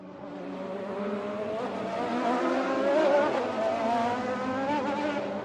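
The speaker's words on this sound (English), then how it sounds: "Filled with only intense drifting sounds" Cars drift on a racetrack at night, with engines revving and rising tire squeals that swell to a loud peak midway and stay sustained, with no talking.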